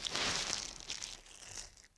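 A plastic bag containing wireless earphones crinkles and rustles as someone opens it with one hand, close and fairly quiet, with crackling that fades toward the end.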